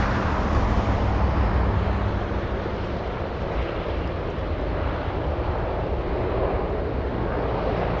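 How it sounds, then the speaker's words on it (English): A Delta Boeing 757 jet on arrival roars steadily, a broad loud engine wash that eases slightly after the first second and holds level throughout. "Delta brings in a 757 from MSP."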